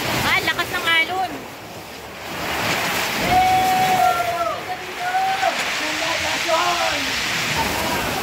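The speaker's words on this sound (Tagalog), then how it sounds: "Ah, lakas ng alon." Strong surf rolls in at a beach in Mauban, Quezon, a steady washing roar heard under people chatting and a voice, with wind brushing the microphone.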